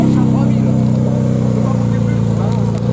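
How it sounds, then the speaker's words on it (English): A supercar engine in neutral holds at its rev limiter, giving a loud, steady, buzzing drone that stays unbroken from start to finish. "neutral rev limiter, but it still sounds good"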